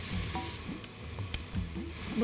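Shallow-fried paneer goes into a sizzling paella pan, a moderate frying hiss with a sharp clack and a few clinks and scrapes, quietish.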